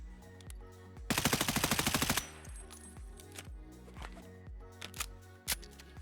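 Sustained full-auto burst from a budget M4 rifle build in Escape From Tarkov, a rapid evenly spaced string of sharp shots lasting about a second, followed by quieter clicks and mechanical handling sounds with no talk.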